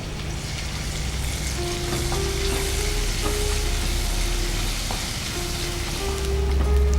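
Onion frying in a pan sizzles steadily and loudly throughout, with faint scrapes of stirring now and then.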